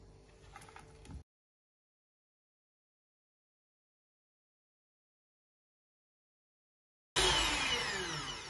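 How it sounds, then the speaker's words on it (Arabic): An electric mixer whips double cream on high speed: a sharp broadband whir starts, cuts out into a long silence, then returns loud and steady near the end, with no voices. "نخفقهم على سرعة عالية."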